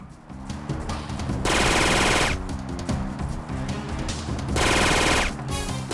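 Automatic weapon fire in the video game Syphon Filter 2 on a mountain level, with long loud bursts of rapid shots alternating with quieter stretches of steady rattling fire, dense and continuous, without talk.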